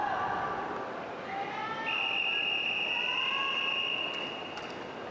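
A whistle blown on the pool deck before the start of a men's 200 m freestyle S14 swimming race at the Parapan American Games, a long steady tone over the echoing roar of an indoor crowd.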